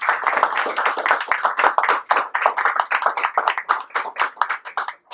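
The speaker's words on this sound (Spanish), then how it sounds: "Pero vamos a dar un aplauso," A bookstore audience applauds author Gerardo at the presentation of his book, with dense, steady clapping from many hands that fills the room for several seconds.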